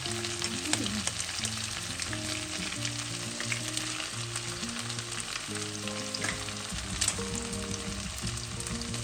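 Food sizzles steadily in a hot pan at home as it is stirred, a continuous close frying hiss with faint scraping, while tonal background music plays throughout.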